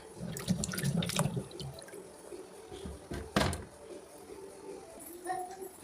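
Water runs from a kitchen tap while food for making upperi is washed, with uneven splashing and dripping that swells and fades in short bursts, fairly close and moderately quiet.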